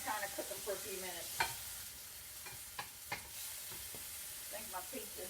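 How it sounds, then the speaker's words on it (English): Onions and peppers sizzle gently in a pan on a home stovetop while a utensil stirs and scrapes them in short, scattered strokes, with a steady soft frying hiss throughout. "I'm going to kind of cook these onions and peppers because I don't like them unless they're cooked"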